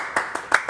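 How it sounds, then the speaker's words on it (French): Audience applause for a guest named Vincent on a French-language show, a short burst of several loud claps with a brief pause between them. "applaudissements pour Vincent"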